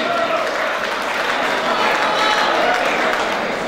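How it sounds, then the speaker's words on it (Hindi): A crowd at a school farewell ceremony breaks into dense, sustained applause, steady and fairly loud throughout with voices mixed in. "तालियां होनी चाहिए"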